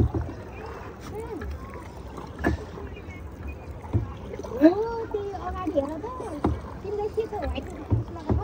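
A wooden boat is rowed on water, with soft splashes and knocks from the oars recurring at irregular intervals as people talk, including a voice.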